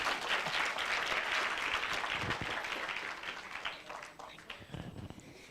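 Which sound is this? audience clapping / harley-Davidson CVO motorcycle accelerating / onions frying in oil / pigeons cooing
audience clapping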